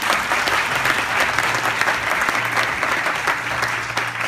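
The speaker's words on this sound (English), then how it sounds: "clap for her to the name of God" Church congregation applauding steadily throughout at a worship service, a continuous dense wash of many hands clapping with a faint low hum underneath.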